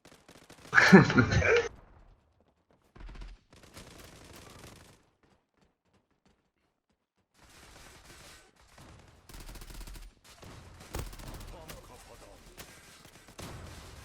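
UMP45 submachine gun fire in the online shooter Zula, a sharp close burst near the start followed by scattered quieter shots and game sounds, with gaps of silence.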